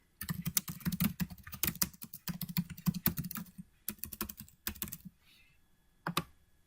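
Rapid typing on a computer keyboard while entering a brand name into an online seller form, with bursts of close, crisp key clicks, short pauses between runs, and a final brief flurry, no speech.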